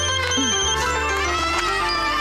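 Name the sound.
telephone ringing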